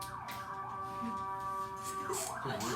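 An ambulance siren wails with a rising and falling tone, fairly faint and steady as it passes outside a tutoring academy classroom.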